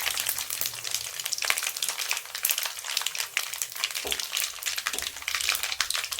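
Mustard seeds, cumin, chana dal and urad dal with dried red chillies splutter and crackle in hot oil, a dense, continuous close sizzle with scattered sharp pops and no talking.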